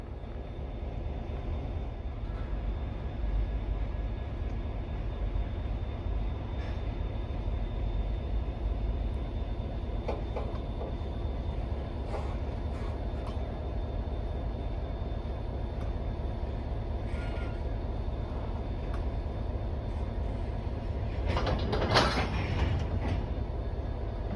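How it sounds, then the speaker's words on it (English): A heavy MBTA ballast stone train idles and rumbles at low pitch for a long stretch during switching, with occasional metallic clanks and squeals, then a sharp screech near the end. "As they shoved into the 1028, I asked the conductor if I could film their switching operation."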